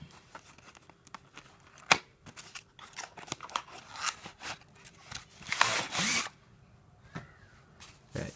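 Scissors snip through packing tape on a wall scroll package, a few sharp crisp cuts with rustling of plastic wrap, close and fairly loud, with a longer burst of cutting and crinkling near the end.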